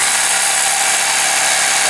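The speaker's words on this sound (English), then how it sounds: "we're going to give him another 45 seconds and see how far he can drill" A power drill fitted with a carbide tip bores continuously at full power, a loud, dense, unbroken grinding whine filling the whole clip with no pauses.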